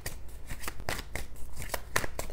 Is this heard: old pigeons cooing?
no